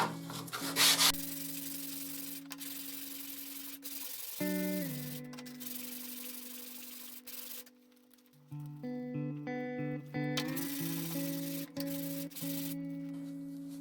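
Continuous whirring and rubbing of sanding a wooden 1x2x3 cylinder puzzle, with the motor-like tone shifting pitch a few times and a short pause partway through; no voices.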